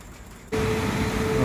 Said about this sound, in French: C'est la cascade de pluie sur la voiture.